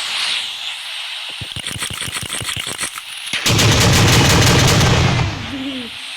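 Diwali firecrackers: rapid strings of sharp crackling bangs burst close by, then a dense, continuous roar of explosions that fades into a hiss.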